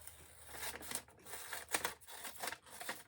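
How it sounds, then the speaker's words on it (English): Scissors snip through canvas in a quiet craft setting, a string of short crisp cuts spaced roughly every half second, close to the microphone with no voices. "I'm going to trim this a little bit because that was cut"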